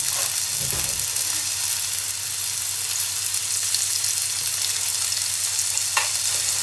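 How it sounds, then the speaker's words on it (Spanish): Onion cooks slowly over low heat in a pan with a spoonful of sugar to caramelize, giving a steady, close sizzle and hiss throughout, with a brief stir near the start. "Lo dejamos que se haga a fuego lento para que se poche lentamente y se nos caramelice."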